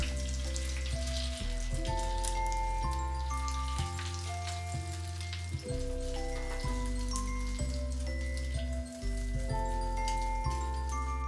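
Omelette mixture for a banh mi cooks in a pan with a steady, close sizzle and frying crackle running the whole time, over soft background music.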